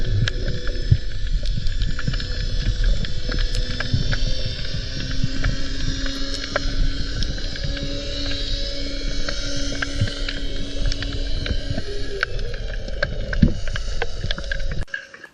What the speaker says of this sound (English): So here's what a boat sounds like.